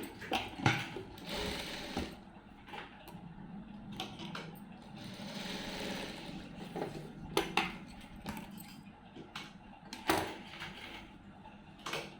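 A sewing machine stitches cross-cut pieces of a lined blouse together, rapid bursts of stitching with short pauses between runs, close and moderately quiet, no talk.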